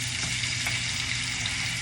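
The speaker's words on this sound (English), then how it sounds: "I'm kind of just taking the bottom of this and scraping it so it doesn't, just try to move it around with the onions in here" Cabbage, turkey sausage links and onions sauté in a pan with a steady, close sizzle, a spatula scraping the caramelized bits off the bottom now and then, with no talking.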